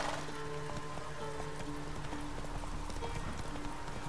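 Roach, the horse in The Witcher 3, trots with a steady clip-clop of hooves under faint game ambience and music, with a brief whinny, fairly quiet and without talk.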